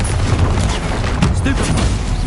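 A Confringo blasting spell explodes in a Harry Potter video game, a loud, dense burst of booming, crackling noise filling the whole short moment with steady intensity.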